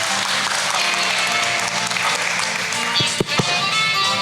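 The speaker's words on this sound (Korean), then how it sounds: "큰 박수로 맞이해 주시길 바랍니다." Audience applause welcomes the company head onto the stage at the Jeju international student art contest, a steady wash of clapping with a few sharper claps near the end.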